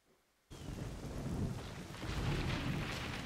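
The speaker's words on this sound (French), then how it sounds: "Alors, il pleut fort." Heavy rain in the video game Fable Anniversary pours steadily after a sudden start, with deep thunder rumbling underneath and swelling louder toward the end.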